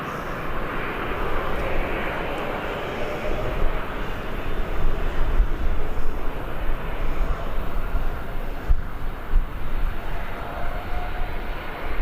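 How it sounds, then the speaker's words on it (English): An aircraft landing at Birmingham Airport gives a loud, broad engine roar with rumbling, fluctuating swells and a faint higher whine above it, sustained for the whole stretch. "Bit of a bouncy landing, that."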